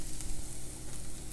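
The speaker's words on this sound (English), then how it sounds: "I've been sauteing my onions for probably about 7 minutes or so now, just constantly stirring so that they don't burn" Onions sauté in a pan with a steady, close frying hiss and faint stirring movement, heard alone without any voices over it.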